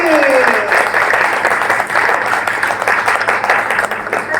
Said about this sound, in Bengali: আমাদের জন্য একটা জোরে হাততালি।